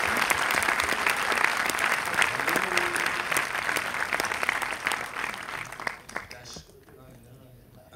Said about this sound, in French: le monteur est dans la salle, Mathieu tout le monde, et on peut l'applaudir